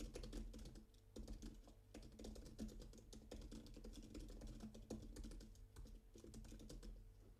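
Fast typing on the keyboard cover of a Galaxy Tab S11 Ultra tablet, a dense stream of quiet clicking keystrokes at a steady pace with no talk over it.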